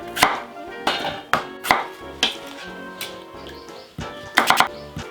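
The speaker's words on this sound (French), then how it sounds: "On continue, pommes de terre coupe 2 et 2." A knife cutting potatoes in halves on a board for blanquette de veau, a series of sharp, close chops in an uneven rhythm with brief pauses.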